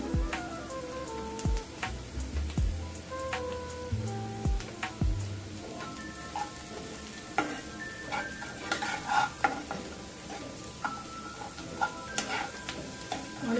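Drumstick (moringa) leaves being stir-fried in a pan with salt, chilli and onion: steady frying sizzle with repeated scraping stir strokes and spatula clinks, close and moderately loud, no talking.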